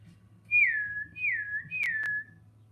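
Three high-pitched whistled notes follow one another, each sliding downward, clear and close, with two sharp clicks during the last one and a low hum underneath.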